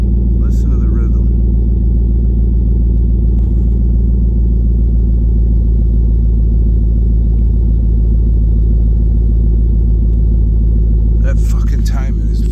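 A car engine idles steadily a couple of minutes after a cold start, giving a loud, close, even rhythmic rumble throughout, with a few brief higher noises near the end.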